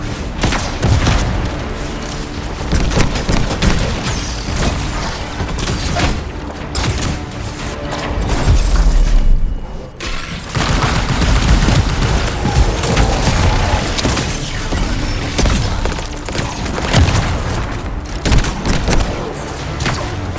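Weapon fire and explosions at crystals in the video game Anthem, with dense, continuous thuds, booms and rapid bursts over a loud action soundtrack, almost no pause throughout.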